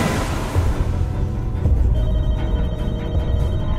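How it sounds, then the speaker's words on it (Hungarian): A telephone rings in a kitchen in the video game Michonne, a clear ringing tone that repeats against a rumbling game background, with no one speaking. "Csörög a telefon a konyhában."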